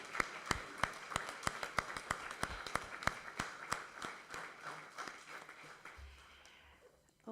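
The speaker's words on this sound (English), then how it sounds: "Can I get a round of applause for the retirees and the newly promoted" Applause from an audience at a police services board meeting, honouring police retirees and newly promoted officers. Distinct claps sound alone, then thin out and stop.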